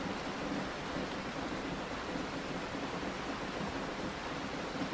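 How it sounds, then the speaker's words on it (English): Steady rain falling on a van, a dense even hiss of drops heard from inside, soft and continuous with no voices. "The raindrops become a hypnotic serenade, lulling you into a state of relaxation."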